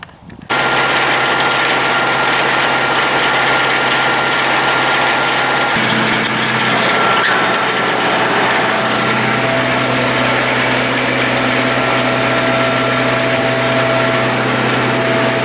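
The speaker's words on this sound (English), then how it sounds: "I'll just cut to a bit of video I made of some tedding in progress, and you can see how the machine works" A haybob tedder at work tedding hay, driven by a tractor engine that starts up and then runs steadily and loudly, its drone shifting pitch partway through as the machine keeps turning, with no talking.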